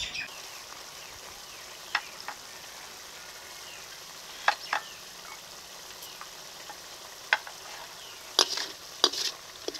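Quiet sizzling of tomato paste frying with sugar and dry spices in a pan for pasta, a soft steady crackle punctuated by scattered sharp clicks of a spoon stirring against the pan.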